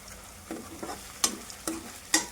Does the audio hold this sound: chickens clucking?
no